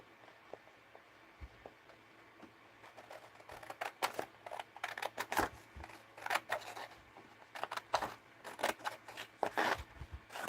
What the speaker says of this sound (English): So I think I'll cut this.